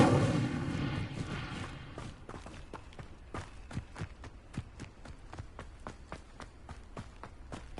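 An Incendio fire spell in Hogwarts Legacy bursts out as a loud, crackling whoosh that fades over about two seconds, followed by a steady run of quick, crisp footsteps.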